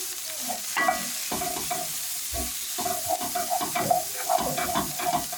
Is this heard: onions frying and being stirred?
yes